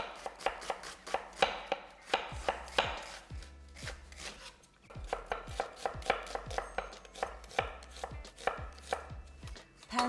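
A knife finely slicing a chilli on a chopping board, rapid steady taps close up with brief pauses, no talking.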